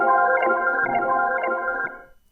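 A dry synth arpeggio bloop texture from Lost Face, with no plugins on it, pulses in a steady, sustained, tonal wash of repeating notes for about two seconds before fading out.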